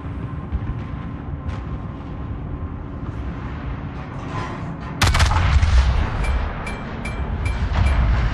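Heavy naval guns of the battleship Yamato boom out in a World of Warships naval battle, a sudden loud blast about halfway through followed by rumbling reverberation and scattered impacts over a steady low ambient drone.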